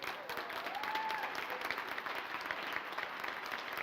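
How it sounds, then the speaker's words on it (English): Conference audience in Munich applauds newcomers at an opening session, a fairly faint, distant wash of sustained clapping across a large hall with no talk over it. "I want a round of applause for our newcomers."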